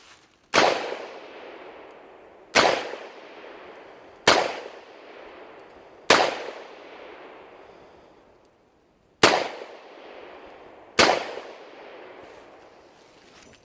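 Six sharp, loud gunshots from a Smith & Wesson Model 20 revolver, fired outdoors about two seconds apart with a longer pause after the fourth, each crack followed by a short ringing echo and no talk.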